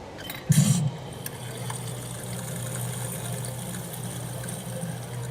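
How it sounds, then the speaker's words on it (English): A Coke bottle opening and pouring plays as a sound effect from a drinks cooler at Disneyland Paris: a quick sharp hiss up front, then a steady fizzing pour that runs evenly to the end. "And you heard a bottle of Coke being opened and it pouring."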